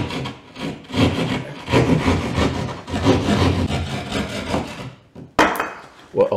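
A hand saw cuts through a sheetrock ceiling beside a joist during a kitchen island renovation, rasping in steady, close strokes for several seconds before a brief pause and a sharper scrape at the end.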